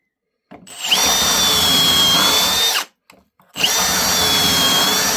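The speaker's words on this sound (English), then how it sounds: "get our pocket hole drill bit" A power drill with a pocket hole bit bores into a wooden decking board for a planter, two loud sustained whirring bursts with a short pause between them, close up and with no talking.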